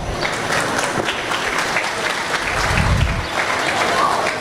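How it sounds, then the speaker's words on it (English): Audience at a livestock swine show applauding crossbred market gilt exhibitors, dense sustained clapping across the whole stretch at a fairly loud, even level. "Let's give our crossbred market gilt exhibitors a big round of applause."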